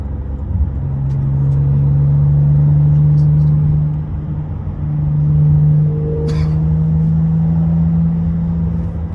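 A TechArt-tuned Porsche 991 runs with a loud, steady engine drone and turbo whine, a low exhaust rumble dipping briefly and rising again, heard up close from inside the car.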